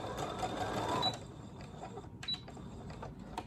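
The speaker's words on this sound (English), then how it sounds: "And back stitch at the top and sew off." A sewing machine stitches a zipper, including backstitching at the top, as a close steady mechanical whir that runs loud through the first second and then eases into lighter, broken bursts as the seam is sewn off.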